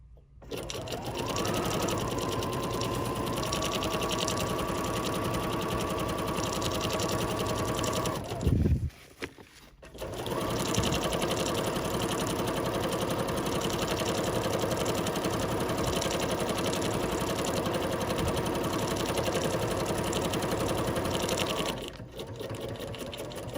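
A computerized embroidery machine runs a pattern, its steady, rapid stitching drone continuing for several seconds, halting briefly, then resuming just as loud and even before stopping near the end.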